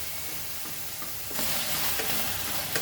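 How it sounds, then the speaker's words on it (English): Finely chopped tomatoes fry in a pan without oil for a Goan sprouted horse gram curry. A quieter hiss swells midway into a louder, crackling sizzle, with faint stirring scrapes. "So we'll fry this for a while"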